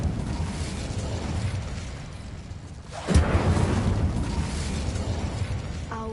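A fire spell cast in the video game Hogwarts Legacy: a low rumbling drone gives way to a sudden loud fiery burst at about three seconds, followed by a sustained roaring whoosh.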